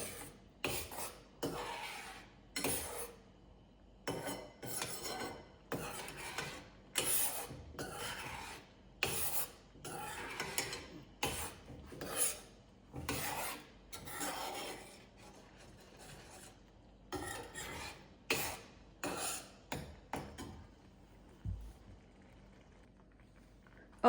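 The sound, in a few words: stirring ravva kesari (semolina) cooking in a pan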